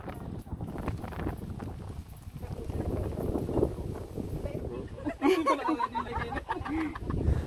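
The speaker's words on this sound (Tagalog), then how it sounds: "Hindi ko na nilagay yung windproof mga kabayan para malaman nyo talaga na malakas ang hangin dito." Strong wind at the Mount Samat National Shrine in Pilar, Bataan, buffets an unshielded microphone with a continuous, uneven rumble, while people talk underneath it.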